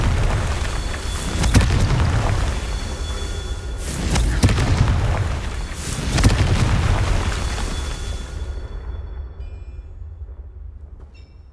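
A Confringo fire spell from the Hogwarts Legacy video game detonates in several heavy booming blasts with rumbling low-end tails, spaced a couple of seconds apart, before fading into quiet.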